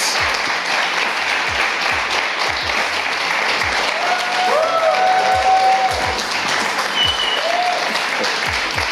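A StarCraft 2 tournament audience at Gamescom applauds in a sustained, dense wash of clapping, with a commentator's voice faintly underneath at times.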